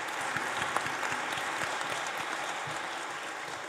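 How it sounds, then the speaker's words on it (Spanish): Applause from a conference audience at an internet governance school session, honouring speakers Claudio Sena and Adriana Costa; steady, dense clapping that holds throughout at moderate loudness. "Un fuerte aplauso les pido a todos."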